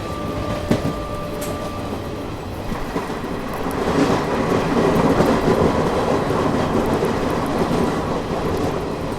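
The Secunderabad-Gudur Simhapuri Express passing close by on the neighbouring track, a loud continuous rumble with wheel clatter that swells and holds steady.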